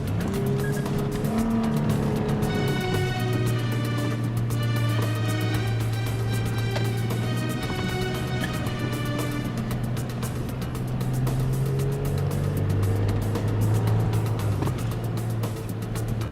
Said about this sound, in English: headed out of the city into the desert in a 4x4